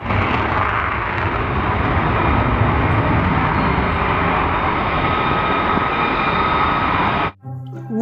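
Toy fighter jet sound effect, a loud sustained roaring jet whoosh that holds steady for about seven seconds, then cuts off abruptly into near silence.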